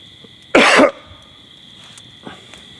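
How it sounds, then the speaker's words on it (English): A single loud cough bursts out close to the mic beside a night fire outdoors, then the scene falls back to quiet crackling ambience. "Pardon this very loud cough."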